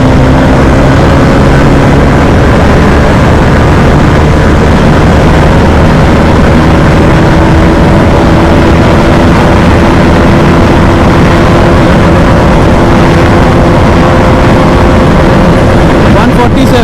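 Bajaj Dominar 250 motorcycle engine running at speed in fifth gear, a loud, steady drone with sustained harmonic whine and heavy wind rush throughout, the pitch holding nearly level.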